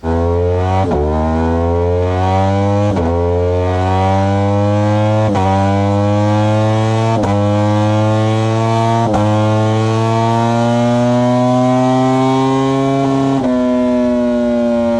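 A Ducati V4 R superbike engine screams upward toward 16,000 RPM through gear after gear, each shift a brief dip before the pitch climbs again, loud and close.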